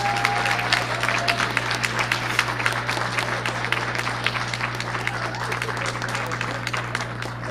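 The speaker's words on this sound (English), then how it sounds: "Give him a round of applause, please." Audience at a 2018 awards ceremony breaks into sustained applause, a dense crackle of many hands clapping at moderate loudness over a steady low electrical hum, with a brief tone early on.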